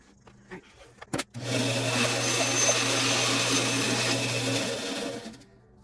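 A power saw cutting a wooden kaleidoscope grip: after a few clicks, a loud, steady whining buzz holds for about four seconds, then winds down. There is no talk.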